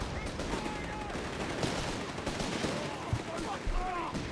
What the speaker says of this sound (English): More shots there from the Stewards.